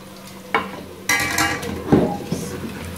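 Fried taro root (arbi) is lifted from a pan of hot oil with clanking utensil strikes and scraping against the metal, amid a continuous sizzle, loud and close.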